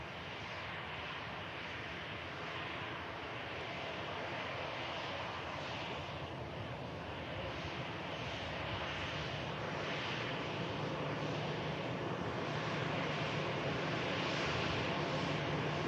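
An EasyJet airliner on the runway at Manchester Airport, a continuous broad engine roar heard from a distance, steady and slowly building over about sixteen seconds.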